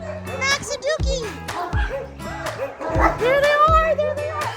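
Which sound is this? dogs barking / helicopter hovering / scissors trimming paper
dogs barking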